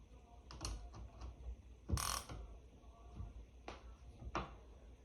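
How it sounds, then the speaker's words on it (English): A ratchet tightens down a suspension linkage bearing during installation, giving scattered bursts of mechanical clicking with one louder, sharper burst midway. The clicks are close and moderately loud, with no talk. "we're going to go ahead and start tightening it down"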